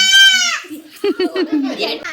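A young goat kid bleats in a long, wavering cry near a village farm garden, followed by a quick run of short, higher calls close by, with children's voices mixed in.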